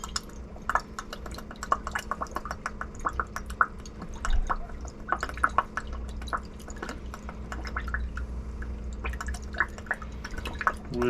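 Worcestershire sauce pours into a cup in a quick stream of glugging, dripping splashes, close and moderately loud, with a few faint clinks of glassware and no talking.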